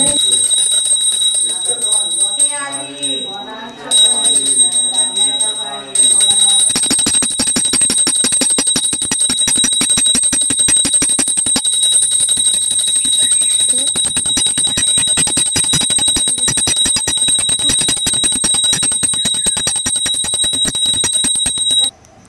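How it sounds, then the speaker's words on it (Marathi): A bell rings during a Gauri Ganpati arrival ceremony at home, producing loud, sustained, rapid metallic ringing for most of the stretch, with singing voices briefly heard near the start. "घंटे वाजवतो"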